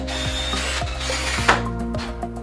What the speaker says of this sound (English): I'm going to pre-drill some holes in these also